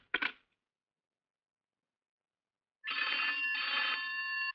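An electronic telephone ring sounds in two bursts: a short clipped trill at the start, then a sustained, steady ringing tone after a long silence, with no talking.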